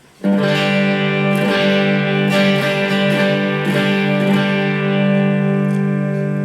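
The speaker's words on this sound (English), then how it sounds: "I've got a bit more distortion than I was thinking I was going to get" A distorted electric guitar strummed steadily in a repeating down-up pattern, sustained chords ringing loud and close with no voices.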